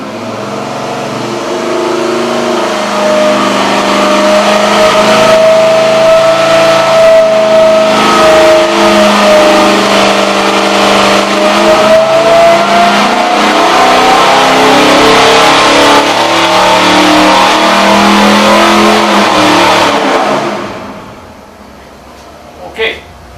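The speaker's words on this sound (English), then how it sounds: "we're going to look at the engine working hard and listen to it grunt and groan" A 1967 Pontiac 400 GTO engine laboring hard on a dyno, a loud sustained roar with rising and falling pitch for about twenty seconds before cutting off abruptly, with talking faintly over it.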